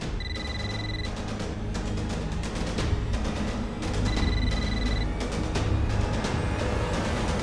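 A telephone rings unanswered indoors, two clear bursts of an electronic ring a few seconds apart over a steady background of music or room noise.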